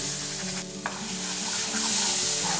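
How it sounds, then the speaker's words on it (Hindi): Mango puree cooks in a pan as it is stirred, giving a steady, fairly quiet bubbling sizzle with a single soft scrape partway through; no voices. "1 से 2 मिनट तक अच्छे से हिला लेंगे, पकाएंगे इसको।"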